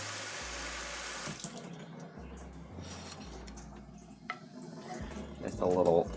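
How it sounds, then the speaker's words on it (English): Tap water runs in short splashing bursts into a pan to make a drizzle sauce for äppelkaka, close by and fairly quiet. Someone is speaking over it. "we will add some water to this"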